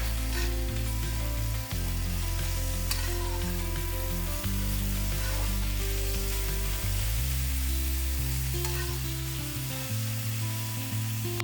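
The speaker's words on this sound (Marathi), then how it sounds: "आपण यात टोमॅटो घालूया. हे थोडं परतून घेऊ आपण." Tomatoes hit a pan of already-sautéed onions for a vegetable pulao, setting off a loud, continuous sizzle with bubbling fry and occasional stirring scrapes, close and steady throughout with no talking.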